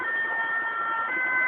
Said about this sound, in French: Ah, c'est une ambulance ou pompier